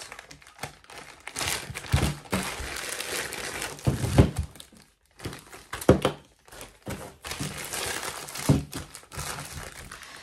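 A plastic Ziploc bag crinkles and rustles close up as it is handled during a diamond painting kit unboxing, coming in irregular bursts with soft thumps and brief quiet gaps.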